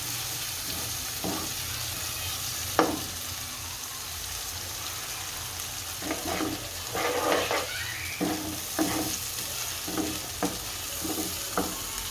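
Green chillies sizzle steadily in hot oil in a pan, a soft continuous frying hiss with scattered stirring scrapes and a sharp knock near the start, heard fairly close without talk.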